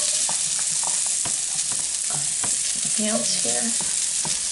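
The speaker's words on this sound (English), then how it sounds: "I'm going to take my acorn squash, put that into the pan, and I want to sear that a little bit." Acorn squash sears in a hot pan with a loud, steady sizzle, punctuated by scattered clicks and scrapes of stirring; a brief voice is faintly heard.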